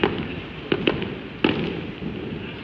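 Firecrackers go off near a temple on the last day of Chinese New Year, several sharp cracks popping at irregular intervals over a constant crackling background, fairly close.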